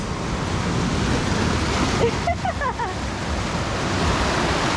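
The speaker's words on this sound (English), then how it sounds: "Pretty big waves, huh?" Big ocean waves break on rocks at El Tunco, El Salvador, making a continuous, loud, broadband roar of surf that fills the scene without letup.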